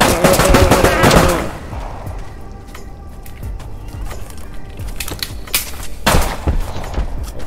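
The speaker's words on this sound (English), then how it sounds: "I accidentally shot somebody in the woods, I think, right there." Gunshots in the Blood Trail VR video game: a loud, rapid burst of automatic fire at the start, then a quieter noisy stretch, and another sharp cluster of shots later.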